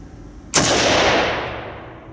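A single loud, close shot from a heavy SIG Sturmgewehr 57 delayed-blowback rifle with a muzzle brake, a sharp crack followed by a long rolling echo that fades over about two seconds.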